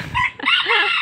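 A bantam rooster, one of the smallest chicken breeds, crows once up close and loud. The call is short and strained and fills the whole second.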